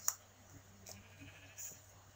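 Sheep bleating in the video game Minecraft, a few faint, short bleats over a quiet background with light clicking, no one talking.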